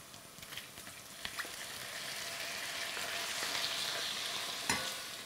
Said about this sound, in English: So I'm going to tip in those prawns now.